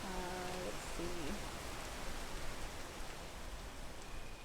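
Steady rain in the video game Peak, a continuous hiss of falling water with no breaks, holding level throughout with a brief tonal voice-like sound near the start.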